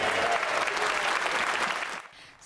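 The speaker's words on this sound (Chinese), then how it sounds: "现场所有下议院议员全体起立鼓掌，长达50秒，向乌克兰驻英国大使普雷斯泰科致敬。" Members of the UK House of Commons give a standing ovation in the chamber: loud, dense, continuous clapping from a large crowd that fades out near the end.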